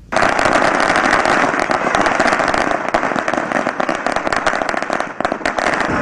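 Firecrackers and fireworks set off at a political party celebration in Bharuch marking approval of the Shravan Chokdi flyover. Dense, continuous crackling bursts and rapid pops fill the whole stretch, loud and close with no pause.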